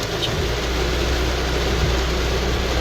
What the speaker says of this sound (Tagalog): Kusog kayong ulan yot. Grabe ang pagkakusog.